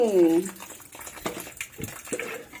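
Water splashes and runs while a chalice is washed, with short bursts of rinsing nearby and people talking over it.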